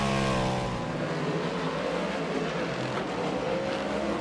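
Speedway race cars racing on a dirt track, their engines a loud, continuous roar with shifting pitch as they sweep around the circuit.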